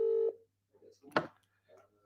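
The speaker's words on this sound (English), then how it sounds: "I'm ringing Sutty now, see whether he answers" A phone dials an outgoing call. A short, clear keypad tone plays, then a quiet pause, then faint bursts of line noise and a distant voice.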